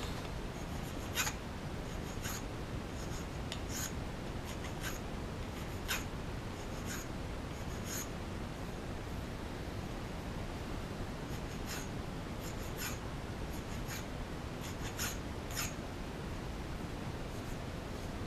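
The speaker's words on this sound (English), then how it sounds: "And then I'll deburr the edges." Hand-deburring the edges of a freshly cut metal part in a machine shop before mounting it in a mill vise, heard as a series of faint scraping strokes in an uneven rhythm over a quiet hiss, with no talk.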